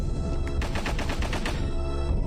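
Gunfire from the video game Alisa rattles out in a quick, evenly spaced burst of sharp shots, loud and close, with no talk over it.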